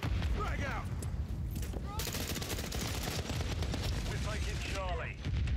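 Dense, continuous automatic gunfire in Call of Duty Modern Warfare 3 multiplayer, loud and sustained across the whole stretch, with game voices and effects layered underneath.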